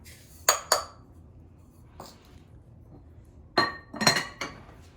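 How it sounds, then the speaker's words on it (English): Metal and glass clinks as a cup of sugar is scooped from a pot in a home kitchen, a couple of sharp clatters, a pause, then a cluster of louder knocks, close and without talking. "here is 1 cup of sugar. We can get it out of the pot"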